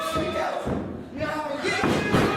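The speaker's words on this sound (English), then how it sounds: "Buckle bomb into the corner." Wrestling ring impacts as one wrestler is buckle-bombed into the turnbuckle corner: heavy thuds and canvas rattle, with a louder jolt near the end, amid a busy, reverberant room with commentary voices underneath.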